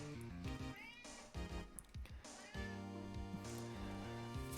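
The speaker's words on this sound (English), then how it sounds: "I also got my cat." A cat meows several times in drawn-out, wavering cries, partly buried under loud, busy game music.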